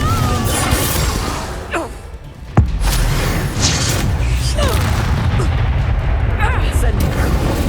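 Spell blasts going off in combat in the video game Hogwarts Legacy, with booming impacts and a sharp crash near the middle under near-constant shouted dialogue and incantations.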